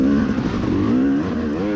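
Dirt bikes racing at a motocross event, several two-stroke engines revving and whining at close range with rising and falling pitch, loud and continuous.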